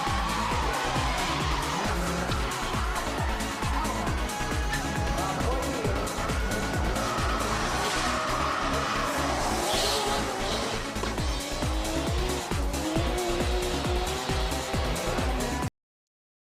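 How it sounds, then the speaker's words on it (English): A yellow drift car with an RB26 engine of roughly 700 horsepower screams at high revs, its engine roaring continuously while tires squeal and skid, loud and close, with a voice talking over it. "That was Kuroi in the yellow one Via, which had an RB26 and I think something like 700 horsepower. Sounded pretty awesome"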